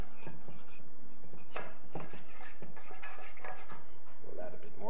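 A spoon clinks and scrapes repeatedly against a bowl while orange juice and cocoa powder are stirred into a thick sauce, a busy rattling rhythm close by with faint background noise and no talk.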